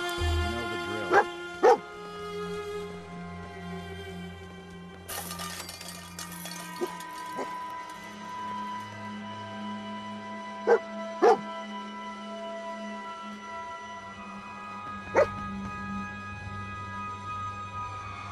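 The dog Dogmeat in the video game Fallout 4 gives several short, sharp barks, spread irregularly over the clip against a quiet game backdrop.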